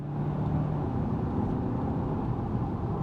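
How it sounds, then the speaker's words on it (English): Inside a 2025 Hyundai Santa Fe XRT on off-road tires, its 4-cylinder engine and dual-clutch transmission give a smooth, steady cabin drone. The mix of engine and road noise holds at a constant level, with no one talking. "for it to be a 4-cylinder, it does not sound coarse or grainy or bad whatsoever"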